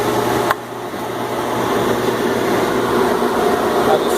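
A Denray 2800 downdraft sanding table dust collector, a low-hour machine in great shape, runs with a loud, steady whooshing drone of strong suction and a constant low hum after a brief click at the start.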